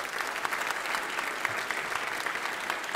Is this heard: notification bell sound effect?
no